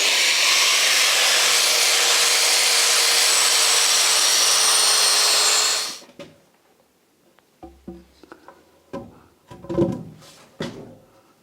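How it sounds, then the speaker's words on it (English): An electric sander works an old wooden beam in a house built in 1616, giving a loud, steady whirring hiss for about six seconds before cutting off, followed by scattered wooden knocks and handling clunks. "Next is cleaning up the beam on 3 sides, and therefore I'm using my sander."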